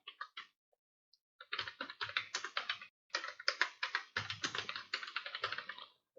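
Code is typed on a computer keyboard in quick, close clicking runs, a few keystrokes first, then longer steady bursts broken by brief pauses, quiet and alone without talk.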